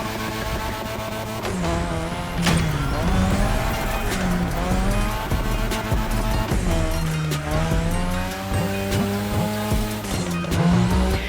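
A car drifting on a drift track in The Crew Motorfest, with a revving engine rising and falling through gear changes and sustained tire squeal, loud and continuous for about eleven seconds.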